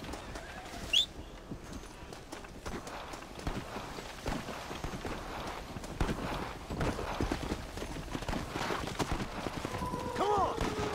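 Horse hooves clip-clop steadily in the Red Dead Redemption: Undead Nightmare video game, a continuous trotting rhythm up close under game ambience, with a brief whinny-like cry near the end.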